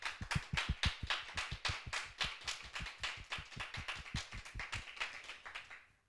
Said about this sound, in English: I'm going to ask my audience here for a little clap for the children